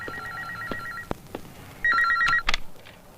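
A telephone rings on a call to a police station, two bursts of rapid warbling electronic ring separated by a pause, close and clear, with a few sharp knocks and clicks scattered around them.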